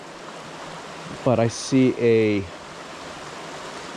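A waterfall pours under a stone bridge arch, a steady broadband rush heard throughout while someone speaks briefly near the camera.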